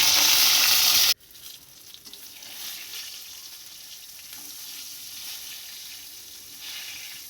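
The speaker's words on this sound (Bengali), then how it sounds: "তারপরে এই তেলে আর একটু তেল দিয়ে এই বেগুনগুলো ভেজে নিচ্ছি" Thin eggplant slices frying in oil sizzle loudly for about a second, then the sound drops abruptly to a quieter, steady crackle that continues to the end, with no voices.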